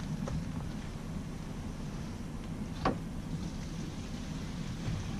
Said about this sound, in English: turn the water on, open the black tank, let it empty out, and rinse it out at the same time